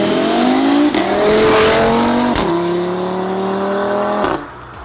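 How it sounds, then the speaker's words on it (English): An Audi RS3 five-cylinder engine fitted with a full custom downpipe and midsection revs loudly and close up, its rising, falling and rising pitch held through several sweeps before dropping away, with no talk. "We've definitely brought back the famous 5-cylinder sound that these cars are known for"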